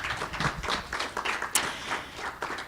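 An audience at a Phoenix city government and politics talk claps in a brief, uneven burst of applause, with individual hand claps standing out near and clear.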